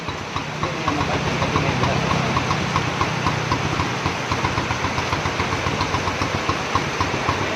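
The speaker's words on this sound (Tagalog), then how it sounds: "Paandar na rin yung Honda Reveal 250." A Honda Rebel 250 motorcycle engine idles steadily close by with an even, rapid mechanical ticking and a rough rumble. It holds a constant level throughout and has no talk over it.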